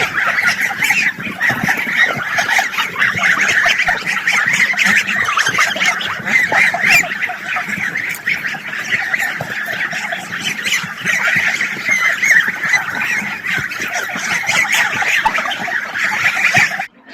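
A flock of domestic farm geese honks loudly and continuously, many overlapping nasal calls close by, with no pause for the whole stretch.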